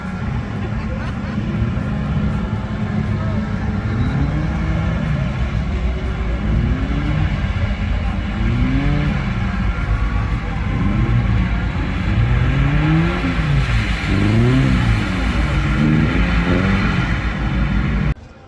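Car drifting and revving at a large JDM car show, engine rising and falling in repeated revs over a constant loud rumble, with crowd noise around it.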